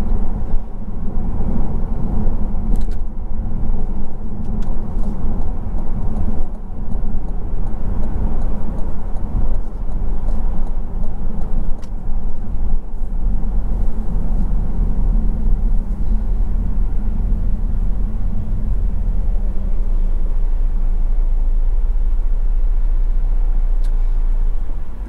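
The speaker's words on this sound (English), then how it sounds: "So what we'll do now is take her for a drive, see how she feels." A 2020 Cadillac CT5 cruising on a highway: steady low engine and road rumble with constant tire and wind noise from inside the cabin, with no talking.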